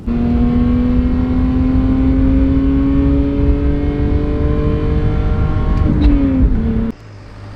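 A Lexus IS300's loud straight-pipe exhaust with the muffler deleted revs hard and holds high, the pitch climbing steadily before it drops and cuts to a low idle.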